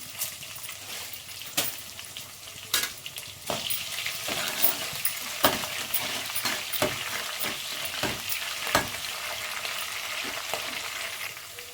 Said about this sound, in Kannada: ಈಗ ಹಸಿಮೆಣಸಿನ್ಕಾಯಿ ಸೇರಿಸ್ಕೊಳ್ಳೋಣ. ಈಗ ಸ್ವಲ್ಪ ಕರಿಬೇವು ಸೇರಿಸ್ತೀನಿ.